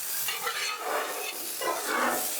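Pork fried rice frying in oil on a Blackstone flattop griddle, a continuous close sizzle with scraping and stirring pulses as the rice is spread out.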